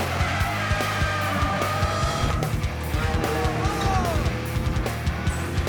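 Pure stock cars race on an oval track, engines droning and rising together with tire squeal and skidding, a dense continuous roar of several cars close by.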